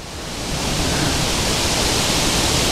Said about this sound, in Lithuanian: Vėjas koksai.